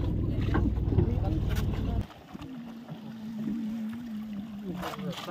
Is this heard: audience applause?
no